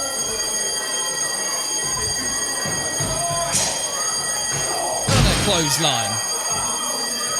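A fire alarm rings continuously at a wrestling event venue, its steady high electronic tones running under the whole clip while a commentator talks and the crowd makes noise.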